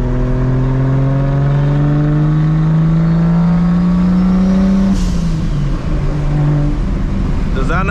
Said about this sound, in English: But y'all check, hear this turbo though,